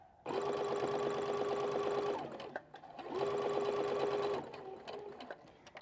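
A sewing machine stitches a small strip of fabric along a welt pocket opening on a garment, running in two steady bursts of about two seconds each with a short pause between, close and clear with no talking.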